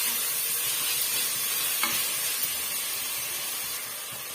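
Mutton recipe ingredients sautéing in a pan, giving a steady, loud sizzle and hiss with faint stirring scrapes, close and continuous, with no voices.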